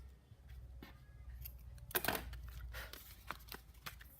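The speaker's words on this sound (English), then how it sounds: "And then cut the edges." Scissors snipping the edges of paper for birthday invitations, a handful of quick, quiet, close snips and paper rustles over a low background hum.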